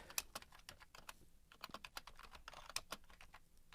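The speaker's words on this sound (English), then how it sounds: "And then type the caption." Rapid, fairly quiet clicking of computer keyboard keys as an HTML caption is typed, with uneven bursts of keystrokes and no voices.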